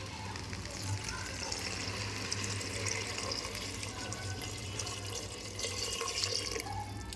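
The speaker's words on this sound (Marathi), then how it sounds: "आणि आता पाणी घालणार आहोत आपण भात शिजणे इतपत" Water runs steadily into a pot of pavta bean rice with cilantro, a continuous splashing stream heard close up over a low background hum, with no pauses across the span.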